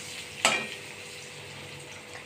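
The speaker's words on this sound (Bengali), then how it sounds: "সব পনিরগুলো দিয়ে দিলাম। পনিরটাকে আমি লাল করে ভেজে নিয়েছি।" Paneer cubes frying in hot oil in a pan give a steady close sizzle, with a couple of sharp clinks from a utensil against the pan.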